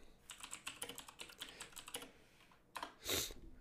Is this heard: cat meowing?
no